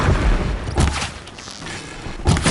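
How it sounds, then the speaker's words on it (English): Enemy gunfire in the game Horizon Zero Dawn, a few loud booming shots and thuds close by against a noisy rushing background. "Why are they shooting at me?"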